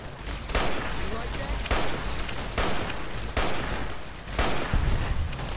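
Video game gunfire in a modded Fallout New Vegas fight: a dense, loud run of shots and impacts with repeated heavy bursts roughly every second, continuous combat noise with little pause.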